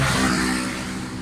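Engine of a 2005 Honda City automatic idling with a fault that makes its rpm drop and recover, a steady close hum that swells slightly early on, then eases lower and holds.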